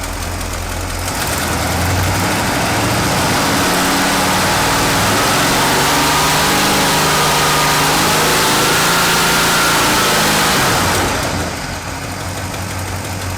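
A Cadillac V8 in an abandoned 4x4 truck revs loud and close during a timing check, rising from idle into a sustained high-RPM roar for several seconds with some rough knocking before dropping back to idle.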